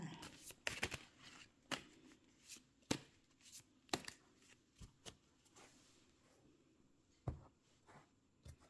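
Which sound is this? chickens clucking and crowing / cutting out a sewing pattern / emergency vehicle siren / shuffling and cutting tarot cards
shuffling and cutting tarot cards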